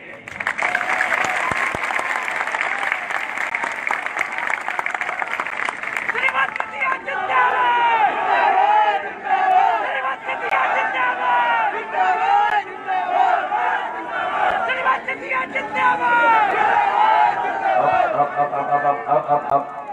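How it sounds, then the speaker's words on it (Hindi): Loud crowd applause and cheering at a political rally stage event in India, dense broadband clapping for several seconds before shifting into mixed cheering and crowd voices that carry on to the end. "पीछे तक मुझे बिलौआ की ताली चाहिए।"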